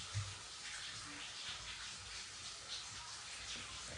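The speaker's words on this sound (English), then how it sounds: "Turn the fucking water off till y'all find my cup." Water runs steadily from a tap into a sink in a home kitchen, a soft continuous hiss and splash with a faint voice in the background.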